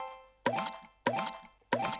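Resource harvesting effect from the mobile strategy game Jungle Heat: three short, bright plopping chimes with ringing tails, evenly spaced about half a second apart, following a faint sustained tone, with no talking.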